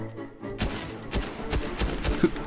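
Gunfire in Fortnite, a rapid run of sharp shots in an uneven rhythm, about six or seven distinct cracks at moderate volume after a quiet start.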